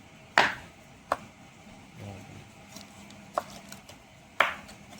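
Fish being cut for a recipe gives a few sharp, separate chops of a blade striking a board, close and crisp, spaced irregularly over quiet background.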